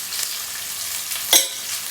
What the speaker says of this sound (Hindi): अच्छे तरीके से इसको भूनेंगे। प्याज को इसका कलर चेंज करेंगे।